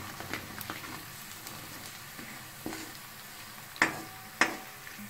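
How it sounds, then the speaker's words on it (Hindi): Browned onions with garam masala are stirred in a frying pan, giving a quiet sizzle under soft scraping and stirring, with two sharper clatters of the utensil near the end. "अब हम इसको अच्छे से मिक्स करेंगे"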